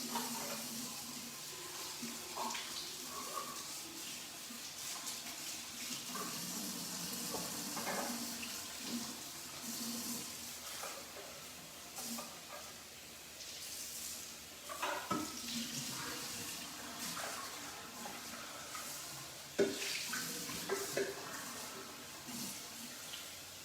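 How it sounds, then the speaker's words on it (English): Kitchen tools from a falafel pita prep rinsed under a running tap, a soft continuous stream of water with scattered clinks and splashes, fairly faint and close. "and give this a quick rinse."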